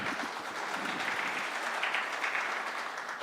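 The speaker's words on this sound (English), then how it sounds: "Let us clap for ourselves." Audience at the SCM Middle East Conclave & Awards conference applauds, a dense, even wash of many hands clapping at moderate volume with no pauses.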